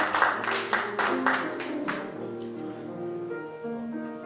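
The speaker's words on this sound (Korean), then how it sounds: "박수 주십시오." Audience applause at a church general assembly, scattered hand claps in a soft rhythm under a sustained musical tone, moderately faint and fading.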